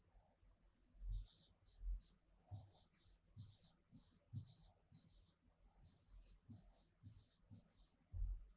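Pen or pencil scratching on paper in short strokes with pauses between words, close and quiet, the faint scrape repeating steadily in a hushed room with soft breathing.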